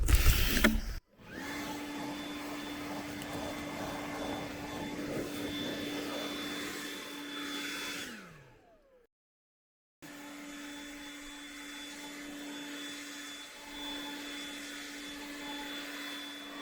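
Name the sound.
leaf blower clearing leaves and pine straw off a roof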